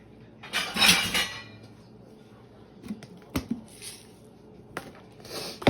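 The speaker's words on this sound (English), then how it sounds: "Now let's go ahead and bread these." Pork chops being breaded at a dredging station of flour, egg and panko, giving soft scattered clinks, taps and brushing scrapes of utensils and dishes, with a louder burst near the start and sparse sharp knocks afterward.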